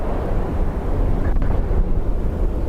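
Strong gusting wind from Storm Éowyn at Dublin Airport, a continuous low roar buffeting the microphone with a steady rumble, no voices.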